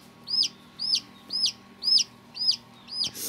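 Newly hatched chicks cheep in an incubator, six evenly spaced high, clear peeps repeating close by over a faint steady machine hum.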